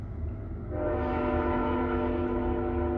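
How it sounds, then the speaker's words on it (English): A passing train sounds a long, steady horn that swells in after a rumbling approach and holds loud and sustained over the rail noise, with no talking. "Excuse the train."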